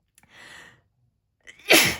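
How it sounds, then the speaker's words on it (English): A single sharp sneeze bursts out loudly near the end, preceded by a brief breathy intake and a short pause. "I'm going to sneeze."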